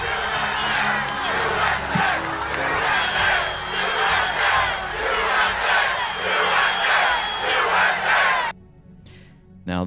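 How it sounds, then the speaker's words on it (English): A packed Trump rally crowd on its feet, roaring and chanting in loud rhythmic bursts, a dense wall of cheering voices that cuts off abruptly near the end. "the whole crowd stands up. And they're screaming USA"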